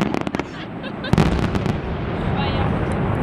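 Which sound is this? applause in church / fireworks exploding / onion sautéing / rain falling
fireworks exploding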